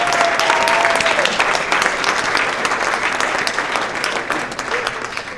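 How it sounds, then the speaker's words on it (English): Applause from a gala audience gathered in Boston for an NMO awareness event, a dense sustained clapping from a large room that stays loud and steady, then thins slightly near the end. "please give them a round of applause"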